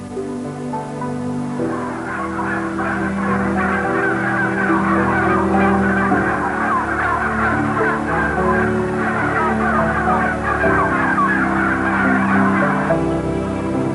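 Dense, continuous clucking and squawking from a huge flock of farmed birds packed inside a single building, many overlapping calls forming a steady loud din with no pauses throughout.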